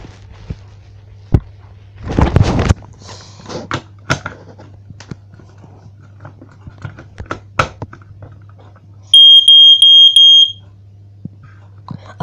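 Cheap home smoke alarm during a test, sounding a short run of piercing high electronic beeps in a rapid pulsed burst, preceded by scattered clicks, knocks and handling noises close by.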